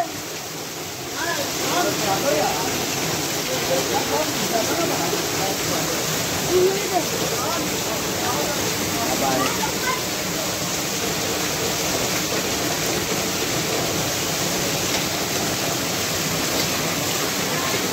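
Steady rain pours down in a Lahore bazaar, a continuous broad hiss lasting throughout, with faint background voices and street bustle underneath.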